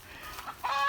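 Farm chickens clucking outdoors, soft scattered clucks followed by a brighter, louder cluck burst at the end.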